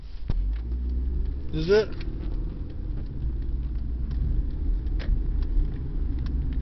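A car drives along a road with a steady, low engine rumble and road noise throughout, while someone speaks briefly over it.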